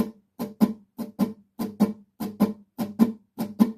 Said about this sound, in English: It's a Texas shuffle.